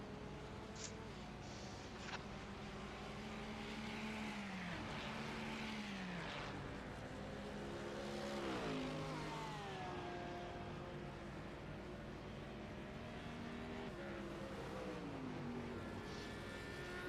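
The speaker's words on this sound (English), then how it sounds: "As the rest of the cars start coming around the start-finish line." GT3 race cars sweep past the start-finish line one after another in a sim racing game, engine notes rising and falling in steady passes over a constant drone, with no talk.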